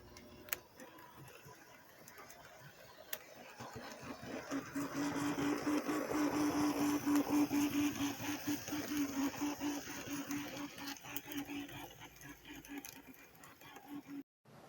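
A Life-Like Proto 2000 E8B model locomotive runs along its track with a whirring, ticking mechanical hum that swells as it nears and fades as it moves away, ending in a few clicks.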